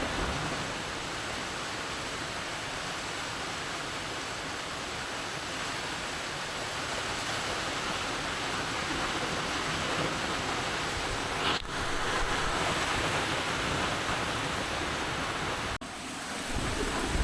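Very heavy rain pouring down during a power outage, a dense, steady roaring hiss that fills the space evenly for many seconds with a couple of brief dips.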